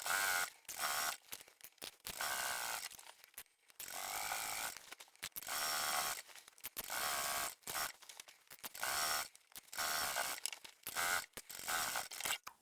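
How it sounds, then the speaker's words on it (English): A sewing machine runs in repeated bursts while top stitching a tote bag with a long 4 mm stitch, a steady whirring hum that starts and stops roughly a dozen times with brief pauses between runs. "Let's top stitch this and then we're done."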